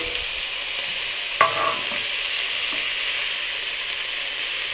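Ginger paste with spices fries in a pan, a constant bright sizzle with a utensil knock and brief stirring scrapes, close and alone without talk.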